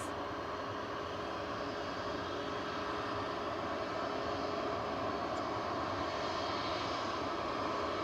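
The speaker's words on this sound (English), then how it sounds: "Lined up and ready to go now is Ryanair 737 MAX 8-200 EI IJD, taking flight 3202 to Rzeszów." Ryanair Boeing 737 MAX 8-200 jet taking off at Manchester Airport, a faint, distant, steady engine roar with an even broadband rush and no voices.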